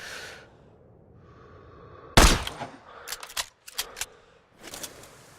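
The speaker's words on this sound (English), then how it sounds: "Check the wind and pull the trigger." A single sniper rifle shot in the Sniper Ghost Warrior 3 video game: one sharp, loud crack after a quiet lead-in, followed by a few shorter mechanical clicks and rattles.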